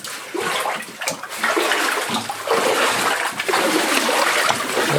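Water rushing and splashing steadily inside an old mine passage with rough rock and arching, a continuous broadband wash that stays loud and close for the whole stretch.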